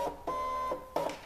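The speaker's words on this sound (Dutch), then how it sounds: "Ik laat mijn mat in." Brother ScanNCut cutting machine drawing a cutting mat in: a few short mechanical whirring bursts with a tonal motor hum, separated by brief pauses, close and fairly quiet.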